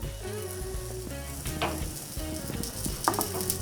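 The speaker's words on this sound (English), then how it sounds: "Let that sear a little bit." Bacon-encrusted smash burger searing right over a grill flame, a steady moderate sizzle with a low rumble beneath it and a faint metallic tap near the end.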